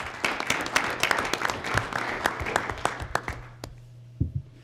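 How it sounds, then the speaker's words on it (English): An audience at a university board of curators meeting claps steadily, a crowd of hands patting for a few seconds before thinning out and fading, with a couple of stray claps at the end. "let's give her a big round of applause"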